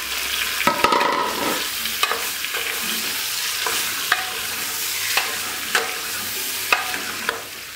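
Pork jowl sautés in a pan for feijoada under a steady sizzle, while a spoon stirs it with repeated scraping clicks at a fairly even pace.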